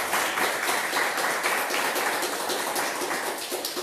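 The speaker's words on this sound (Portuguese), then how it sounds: "Dê para Jesus uma salva de palmas" Church congregation applauding together, a steady dense clatter of many hands that fills the space without pause and stays loud throughout.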